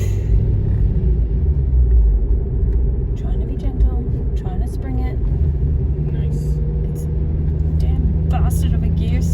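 A manual-transmission Volkswagen car engine drones steadily from inside the cabin while driving, a low continuous rumble with faint road noise, and people talk quietly over it.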